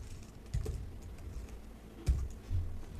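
Sparse, soft keystrokes on a computer keyboard while coding in Java, a few scattered taps and a couple of louder thumps over quiet room noise, with no talk.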